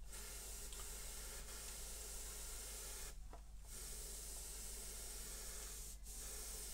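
Thinned Tamiya lacquer paint is airbrushed onto a 1/144 Revell Flower Class corvette model, giving a steady, close hiss with two brief pauses in the spray.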